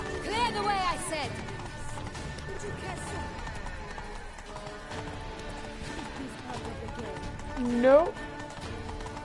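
A horse gallops with rapid clip-clop hoofbeats in The Witcher 3: Blood and Wine, the steady rhythm running under dense game voices and music, with a whinny-like swell near the end.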